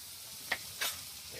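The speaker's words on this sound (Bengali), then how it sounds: "আমার তেল গরম হয়ে গেছে এই যে উনার জন্য একটা মাছ ভাজি করবো" Boal fish sizzling in hot oil in a pan, a steady soft frying hiss with two brief louder crackles, quiet and close.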